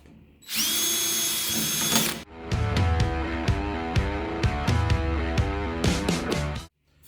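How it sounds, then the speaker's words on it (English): A power drill with a 1/8 inch bit whines at high speed, then runs in a series of short bursts and revving pulses as holes are bored, close and loud. "Then we're going to drill these holes out. The 1/8 inch drill bit."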